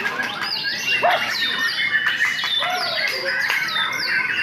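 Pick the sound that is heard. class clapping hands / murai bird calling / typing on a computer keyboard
murai bird calling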